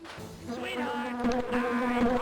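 A steady insect buzzing from bees in The Grinch video game hums with wavering pitch, like several bees droning nearby.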